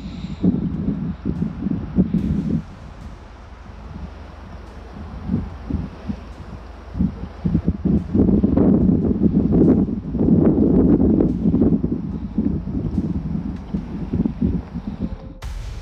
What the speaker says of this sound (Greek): Στην περιοχή επικρατεί κρύο και αρκετός αέρας.